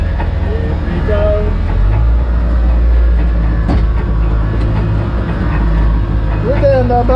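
A small trawl boat's engine is throttled back to about 1,200 RPM, a heavy, steady low rumble close by with mechanical clatter, and voices talk over it.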